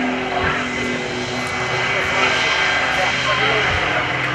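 An aerobatic propeller airplane flown by Mike Wiskus at the 2014 Greenwood Lake Airshow drones loudly and steadily overhead, its engine note shifting slightly, while an announcer talks over the noise.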